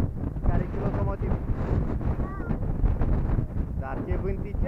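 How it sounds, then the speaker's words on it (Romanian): Wind gusts steadily on an outdoor hike while searching for a bat cave, a continuous low roar buffeting the microphone, with voices talking over it. "Dar ce vânticel, bate!"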